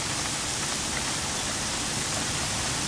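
Heavy hail pours down in a dense, unbroken hiss and rattle, loud and steady throughout with no voices.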